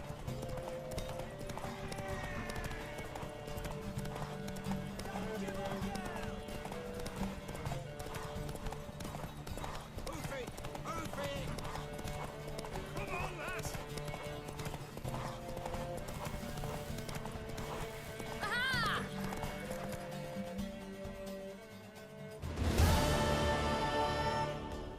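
A horse galloping in The Witcher 3: Wild Hunt, fast rhythmic hoofbeats pounding steadily and close throughout, with game music and occasional whinnies, then a brief lull and a sharp burst near the end.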